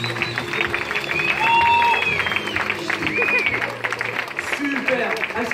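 An audience at a hypnosis show claps in a sustained burst of applause, loud and close. Someone talks over the clapping throughout.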